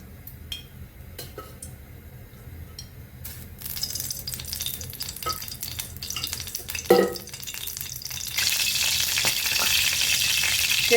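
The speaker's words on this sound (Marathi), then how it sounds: "आपली कढई तापलेले, तेल घालून घे" Oil heats in a hot kadhai after dried shrimp has been roasted, with a soft sizzle that starts faint and swells into a loud, steady hiss in the last seconds, along with a few light utensil taps.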